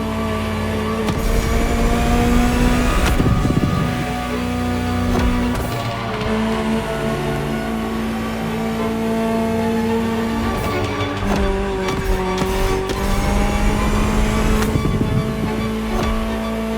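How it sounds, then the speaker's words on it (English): A Ferrari supercar engine in the racing game The Crew Motorfest, revving and shifting through gears with rising and falling whine, loud and continuous, punctuated by sharp shift cuts and occasional tire noise. "Just listen to the car you're driving. She'll tell you her story herself."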